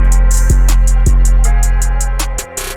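A hip-hop beat made in FL Studio kicks in straight on the drums with no intro: loud, punchy kicks and crisp, evenly spaced hi-hats repeating in a tight, driving rhythm.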